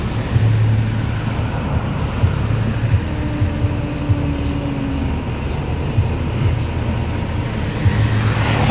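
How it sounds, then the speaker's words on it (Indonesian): A Honda Prima bus bound for Palembang pulls away from a roadside restaurant rest area, a loud, steady low engine rumble and road noise, close and continuous without talk. "Bus Honda Prima tujuan Palembang langsung bergerak meninggalkan rumah makan Omega"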